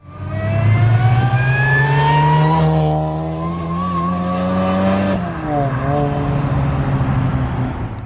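Supercharged Honda RSX Type S A-Spec making about 350-360 horsepower, its engine revving loud and close, with a rising supercharger whine over the engine note, a drop as the throttle lifts, and another surge.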